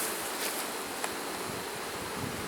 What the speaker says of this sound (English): shake the bees off the other frame from this hive